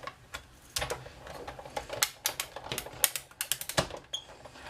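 A Big Shot die-cutting machine cranks a gold foil sheet through, giving a run of close, dry mechanical clicks and ratcheting ticks in an uneven rhythm, with no talking.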